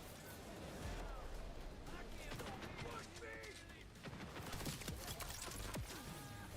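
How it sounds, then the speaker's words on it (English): Gunfire aimed at the player in the Borderlands 4 video game: rapid bursts of shots and metallic clatter keep crackling, mixed with game effects, while voices talk over the fight. "The hell's shooting me?"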